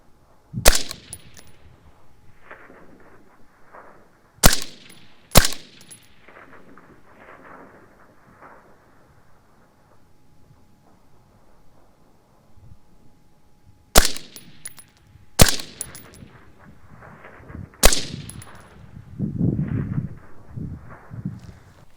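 AR-15 rifle shots fired at 800 yards on an outdoor range, sharp loud cracks spaced irregularly across the stretch, several coming in quick pairs, with quiet gaps and faint rustling between.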